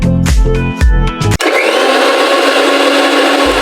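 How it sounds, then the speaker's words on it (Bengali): An electric mixer grinder blending a paste of yogurt, turmeric, chili powder and salt: a loud, steady whirring grind that cuts out abruptly after about a second and a half, leaving a quieter background hiss. "মিক্সির কাজ হাফ শেষ হলো, এখনো কিছু কিছু জিনিস মিক্সিতে বাটতে হবে।"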